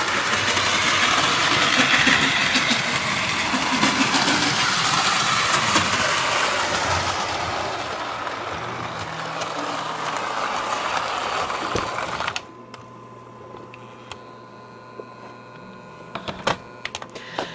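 The motor of a restored 1949 Lionel toy steam locomotive runs on track with a loud, steady whirring rattle that fades, then stops abruptly, leaving a quiet hum and faint clicks.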